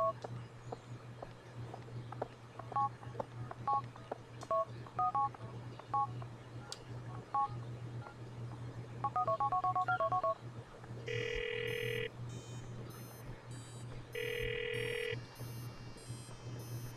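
In Grand Theft Auto IV, a mobile phone is dialed with a string of short, evenly spaced keypad tones. Two long electronic ringback tones follow, loud and separated by a pause, over a low steady hum with no talking.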